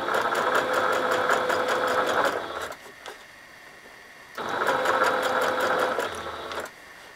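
Sewing machine stitching fabric ruffles for a puffy ruffle flower: two sustained bursts of rapid whirring and needle chatter, separated by a short pause, close and steady, no voices.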